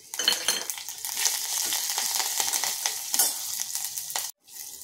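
Ghee tempering of cumin, mustard seeds and green chilli for dal, a bright crackling sizzle with spoon clinks against the pan, close and fairly loud, cutting off near the end.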